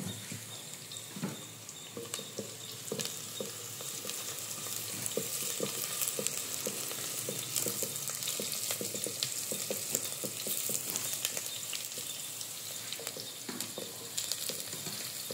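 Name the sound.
small onions (shallots) frying in oil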